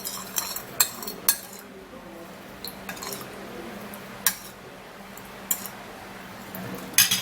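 A spoon stirring a thick homemade foot scrub mixture in a bowl, sparse sharp clinks and scrapes against the dish at irregular intervals, quiet and close.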